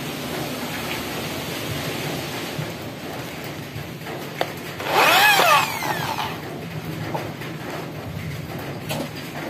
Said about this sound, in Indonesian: Kemudian kita coba bor ya, menggunakan mata bor Naci.